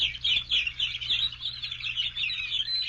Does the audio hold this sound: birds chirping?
yes